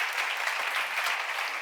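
Applause from a church congregation at a Bible seminar, a steady dense patter of many hands clapping throughout at moderate level, with no voices.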